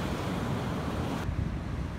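Ocean waves wash onto a beach at low tide in a steady, roaring surf, with gusty wind buffeting the microphone and no voices.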